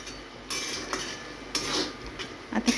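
A spoon scrapes and taps against a pan while coriander powder and chopped coriander are mixed into cooked vegetables, with a few sharp metallic clinks and a faint sizzle underneath.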